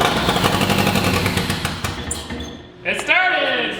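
AWD Miata engine cranking and firing up, a loud, rough, tractor-like clatter that drops away briefly before voices break out over it.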